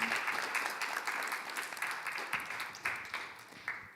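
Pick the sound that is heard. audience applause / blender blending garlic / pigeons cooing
audience applause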